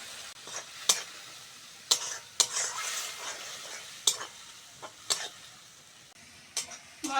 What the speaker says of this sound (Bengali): মশলাটাকে এবার ভালো করে কষে নেব